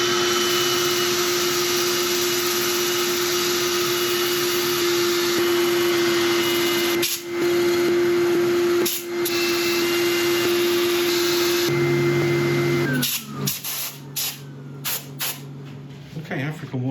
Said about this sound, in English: I'm gonna get this sanded and finished